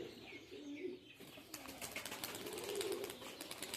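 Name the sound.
pigeons cooing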